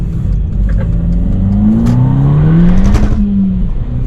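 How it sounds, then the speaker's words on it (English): A Volkswagen Golf GTI engine drones loudly from inside the cabin, its exhaust note rising and falling as the revs climb through the gears, then settle. "Exhaust sounds bloody good."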